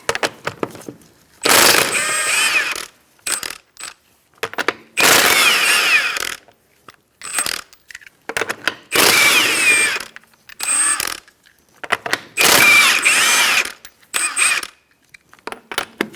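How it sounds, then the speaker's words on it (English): A ratchet on a 21mm socket works loose the lug nuts on the front wheel of a 2004-2009 Mazda 3, heard as five close, loud bursts of rapid clicking separated by short pauses, with no talk. "Using a 21mm socket, we're going to take off our lug nuts."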